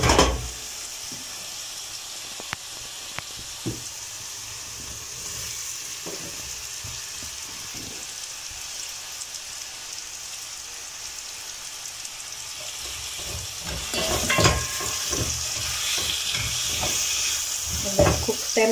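Capsicum sizzles and fries in a pan of tripe (matumbo) while being stirred, a steady hiss of oil with soft scraping clatter of the spoon, swelling louder and busier near the end.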